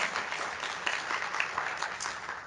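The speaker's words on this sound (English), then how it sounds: "go ahead and clap" Graduation audience at a college honors celebration clapping for a graduate, a moderate, even patter of many hands heard at some distance, without voices.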